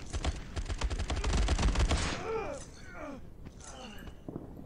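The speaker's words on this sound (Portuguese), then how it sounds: "Eita, tão atirando em mim." Rapid automatic gunfire in a World War 2 mobile first-person shooter, a dense burst of close, loud shots lasting about two seconds, followed by quieter scattered noises and faint sound effects.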